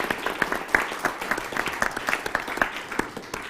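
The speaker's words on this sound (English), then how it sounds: "if we could give those a round of applause as well" Audience at an evening event applauding staff and volunteers, a moderate burst of many scattered hand claps that continues steadily, fairly close, without speech over it.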